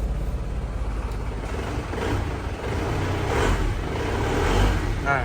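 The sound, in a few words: Isuzu Panther Grand Touring 2013 car engine running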